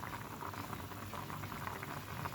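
Egg curry simmers in a pan with a thin gravy, giving a steady close bubbling and popping that runs on without pause.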